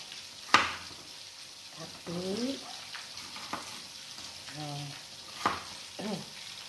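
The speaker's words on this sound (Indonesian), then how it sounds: "Sudah matang ayam gorengnya, kita angkat, langsung kita tiriskan." Oil sizzles and crackles softly around frying chicken, with occasional sharp clinks and stirring sounds and faint talk in the background.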